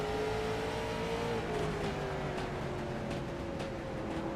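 An onboard race car engine in the iRacing video game, a steady loud drone at Hickory with slowly falling pitch and faint tire noise, heard alone with no voices.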